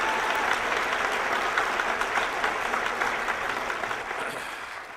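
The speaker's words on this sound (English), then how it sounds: "Another round of applause for Ron." Sustained audience applause fills a lecture hall after a speech on the Federal Reserve at Jekyll Island, a dense, steady wash of many hands clapping that fades slightly toward the end.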